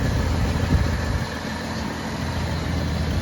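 A 1979 Dodge pickup truck's slant six engine idles nearby, a steady loud low rumble with a constant hum and no change in pace, alone without talk.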